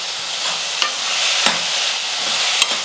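Onions and tomatoes sauté in a pan, a soft continuous sizzle broken by a few sharp spatula taps against the metal, close and without talk.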